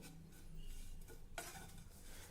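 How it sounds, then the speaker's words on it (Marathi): Dry coconut roasting in a pan over a low gas flame is stirred with a utensil, producing soft scraping and rustling strokes, quiet and close, with a brief sharper scrape partway through and no talking. "मंद गॅसवर हे छान तांबूस होईपर्यंत आपल्याला भाजायचं आहे कंटिन्यू परतत राहा"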